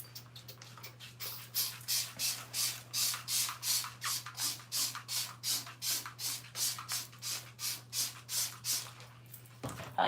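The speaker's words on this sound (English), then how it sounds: "So I bought Clorox spray. You're gonna open the Clorox spray." A Clorox cleaning spray bottle used in a bathroom, pumped in a long, steady train of rapid hissing bursts, close and fairly quiet over a low background hum.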